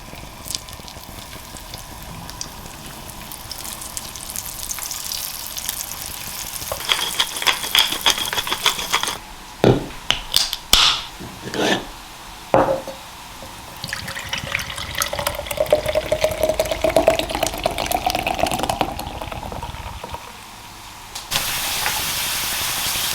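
Potatoes fry in a pan over a high flame, giving a steady hiss and crackle with bursts of sharp sputtering pops and clatter partway through, close and moderately loud, with no talking.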